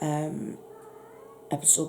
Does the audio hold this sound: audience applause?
no